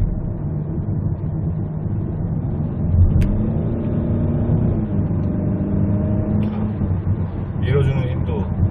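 A 2000 Kia Carnival minivan fitted with aftermarket intake and exhaust parts accelerates, its engine droning steadily with a rising hum under continuous talk from inside the cabin.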